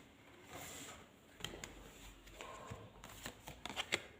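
Tarot cards shuffled and drawn by hand at close range, a soft papery riffle with several sharper flicks and slaps toward the end, with no voices.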